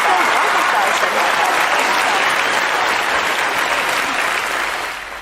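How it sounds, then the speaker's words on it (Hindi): Loud, dense applause from a studio audience welcoming a health show guest, Dr. Ram Avtar Sharma, sustained evenly throughout and tapering slightly at the very end. "जोरदार तालियों के साथ स्वागत कीजिए डॉक्टर राम अवतार शर्मा का"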